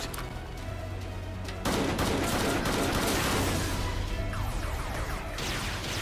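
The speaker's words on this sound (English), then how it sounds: "Oh, Valmora with the gun." Gunfire in an anime battle scene, a dense burst of rapid shots and crashing impacts that starts abruptly and runs loud and continuous over a music and effects bed.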